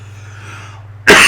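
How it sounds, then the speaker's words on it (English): A single loud, harsh cough bursts out suddenly at the end after a low steady hum, close to the microphone. "Oh, stupid cough."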